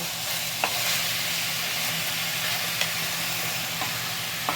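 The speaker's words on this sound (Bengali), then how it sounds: "চিকেনটা কিন্তু আমাকে একটু নাড়িয়ে নাড়িয়ে ভাজা ভাজা করতে হবে" Continuous sizzling and crackling of chicken frying in a pan, with occasional scrapes and clinks of stirring, close and steady.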